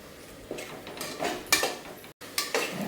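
Masala with chilli powder, salt, coriander powder, turmeric and garam masala being stirred in a pan, a few soft scraping clinks of a spoon against metal, faint and alone.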